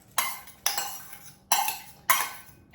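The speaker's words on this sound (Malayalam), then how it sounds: "സവാള, കറിവേപ്പില, ജിഞ്ചർ ഗാർലിക്ക്, മുളക്, ഇത്രയും കാര്യങ്ങൾ ഒരുമിച്ച് ഇട്ട് മിക്സ് ചെയ്യാം" A spoon clinks and scrapes in a pan while onion, curry leaves, ginger garlic and chili are mixed for chicken curry, five distinct metallic strikes at a steady stirring rhythm, close and clear with no talk.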